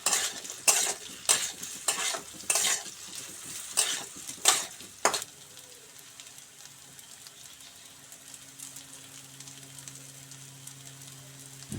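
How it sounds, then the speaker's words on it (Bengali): Cut potato pieces frying in a pan on medium flame, with about half a dozen sharp utensil scrapes and clanks from stirring. After that, a steady soft sizzle carries on alone. "এবার এতে আমি দিয়ে দিচ্ছি কেটে রাখা আলুর টুকরোগুলো।"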